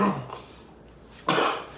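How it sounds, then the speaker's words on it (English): Two sharp, close coughs a little over a second apart at a spin class, loud and alone with a quiet pause between them. "I see we got coughers in here."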